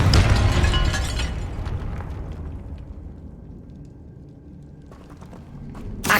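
A Confringo spell detonates in the video game Hogwarts Legacy, a loud burst with crackling debris that decays into a quieter rumble and faint tones, then a second sharp pop at the end.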